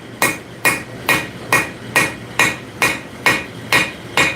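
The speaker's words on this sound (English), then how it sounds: "just hammering them down in" Hammer planishing steel at the forge: ten evenly spaced, ringing metallic blows, close and loud, each decaying briefly before the next strike in a steady rhythm.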